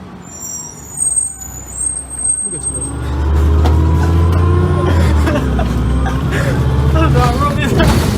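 Bus driving through Lincoln, a loud engine rumble that builds after a few seconds of lighter noise and then holds steady, with a whining drivetrain tone rising and falling and a hiss near the start.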